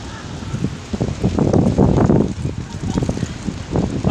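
An outdoor wind gust buffets the microphone with a loud, surging low roar that rises and falls in waves, with leaves rustling.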